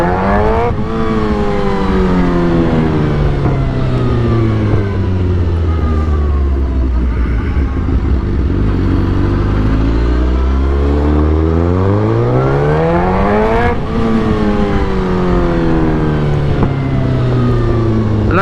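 A 2008 Suzuki GSX-R 1000 sportbike fitted with velocity stacks, on a test ride with a failing clutch, revs loudly up and down through the gears, its engine pitch rising and falling in long sweeps with no pause.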